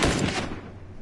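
A quick burst of gunfire from The Last of Us video game cracks out at the start and decays within a second, fairly faint and alone.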